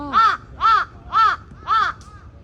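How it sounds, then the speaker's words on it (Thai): A crow caws four times in a steady rhythm, loud and close overhead, each call harsh and evenly spaced, at the old imperial palace grounds in Tokyo. "อีกาอยู่บนหัวเรา เสียงดังมากเลยเมื่อกี้ ร้องเสียงดังมากเลย"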